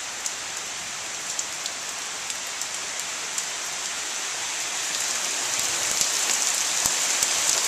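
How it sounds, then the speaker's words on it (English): Steady rain falls in a constant hiss, pattering on surfaces nearby, growing slightly heavier toward the end, with no voices. "It's interesting to get these little bursts of rain."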